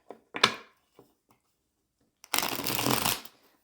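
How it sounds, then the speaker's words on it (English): Long tarot cards are shuffled close by: a few soft taps and a short riffle at first, a pause, then one fuller riffling burst lasting about a second, in a quiet room. "I'm struggling a bit with shuffling these just because of the length of these cards."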